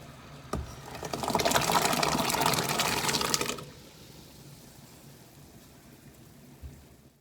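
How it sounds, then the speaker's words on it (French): A saucepan of boiling water with chestnuts gives a loud, rushing, bubbling hiss for about three seconds, then drops to a quiet background with a couple of faint knocks. "j'ai besoin de ma casserole d'eau qui bout"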